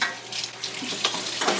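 Thinly sliced food fries in a hot pan, a close steady sizzle with brief crackling bursts and light stirring scrapes.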